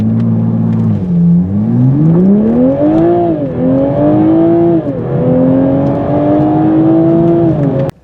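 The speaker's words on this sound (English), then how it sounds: "Let's do a 0 to 60 run" A 2021 Toyota Supra with the six-cylinder engine accelerates hard from a standstill to 60 mph, its loud engine note climbing steadily through the revs, dipping briefly at gear changes, then rising again before cutting off abruptly.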